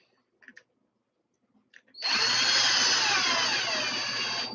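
A power drill bores into an RC car part: after a couple of faint clicks and handling noises, the motor kicks in abruptly and whines loudly and steadily for the last few seconds, close up.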